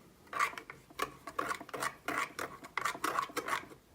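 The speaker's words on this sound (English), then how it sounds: "Now mix with the spoon" A spoon stirring Turkish coffee in a pot, with rhythmic scraping strokes repeating roughly every half second, close and moderately quiet, no talking.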